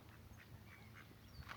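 Ducks at Loch Lake on Portsea Island, beside a coastal footpath, give several faint, scattered quacks from a little distance over a steady outdoor background hum.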